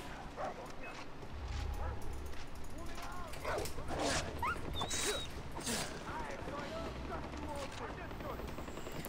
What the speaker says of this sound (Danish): det var den hund der